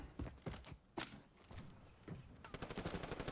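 Rapid gunshots in the video game Warzone crack in short bursts, ending in a fast string of automatic fire, heard faintly at low volume.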